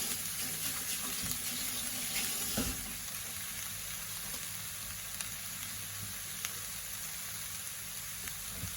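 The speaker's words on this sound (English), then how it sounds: "wash my hands now because they're disgusting" A kitchen tap runs at the sink while hands are washed under it, a steady faint hiss of water with a slightly louder splash early on and a few soft clinks.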